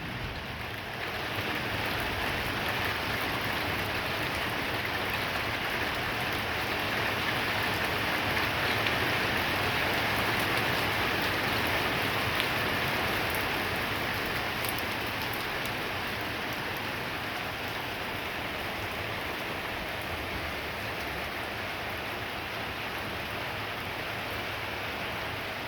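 Heavy rain pouring steadily from a supercell thunderstorm cell bursting overhead, a dense, even hiss of drops drumming on surfaces that holds constant for the whole stretch with no voices.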